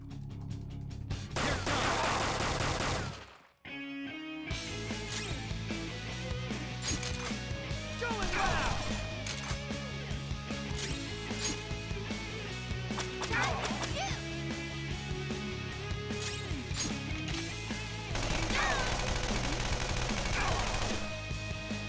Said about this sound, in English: I reckon we first should just shoot.